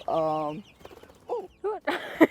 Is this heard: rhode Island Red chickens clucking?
yes